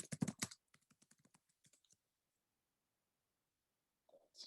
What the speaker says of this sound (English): I'm just typing what you said in the chat.